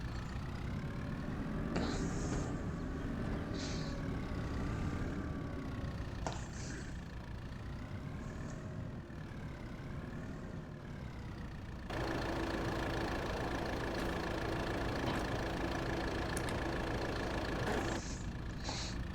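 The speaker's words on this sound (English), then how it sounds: "Switch the engine on." A tractor engine idles steadily in Farming Simulator 22, a continuous low mechanical drone running the whole time, with a faint whirring tone joining midway and holding to the end.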